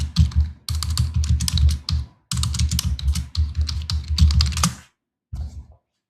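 Rapid keystrokes on a computer keyboard while a command is entered in CAD furniture-drawing software, close and fairly loud, in two dense bursts with a short gap and a brief final flurry of taps.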